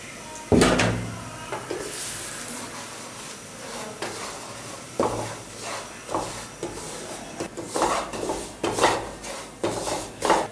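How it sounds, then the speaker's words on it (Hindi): Semolina frying in oil is stirred in a pan with a utensil, giving irregular scrapes, knocks and clatters against the metal, some sharp and loud, others soft, scattered over a quiet sizzling background with no talking. "इसको अच्छी तरह हिलाते रहेंगे जब तक ये ब्राउन नहीं हो जाती।"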